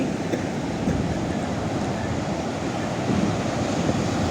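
Continuous rumbling surf of sea waves on Puri Beach, Odisha, in the morning, broad and steady with wind noise, no voices.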